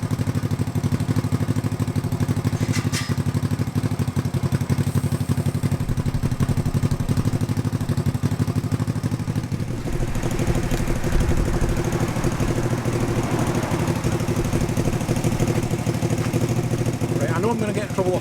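A Honda CB500T motorcycle engine runs steadily close by, a continuous low mechanical rumble with clatter, and its tone shifts partway through.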